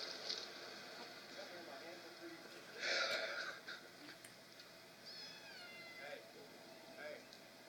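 A cat meows and wheezes faintly now and then, partly buried under a voice in a busy, noisy room.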